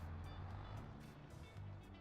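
A truck engine in the video game Farming Simulator 22 drones with a steady low rumble throughout, constant and close, with a faint hiss above it and no talking.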